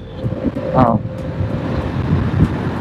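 Steady rushing wind buffets the microphone while riding an e-bike, with a brief whining tone and muffled sounds mixed into the low roar.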